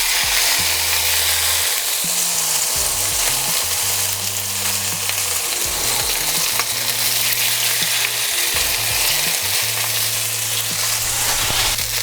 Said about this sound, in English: I have my pan on medium-high heat here, and I'm gonna add in just a little olive oil. And the salmon.